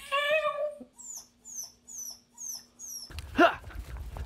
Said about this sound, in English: since you can see my dog